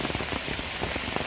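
Heavy rain pours steadily over green paddy fields, a dense continuous hiss with scattered drops pattering on surfaces, loud and close with no voices.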